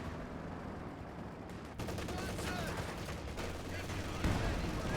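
An artillery barrage falls in a Company of Heroes 2 tournament match, a dense rumble of distant blasts and gunfire rolling on steadily, with commentary voices running underneath.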